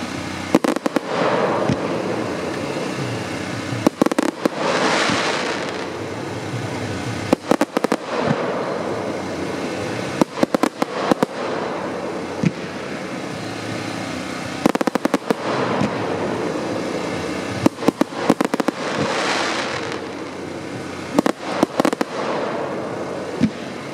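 A 100-shot fan color fireworks cake with assorted effects fires in loud rapid volleys, bursts of crackling pops and booms repeating in clusters across the whole stretch, with sizzling trails between, heard fairly near.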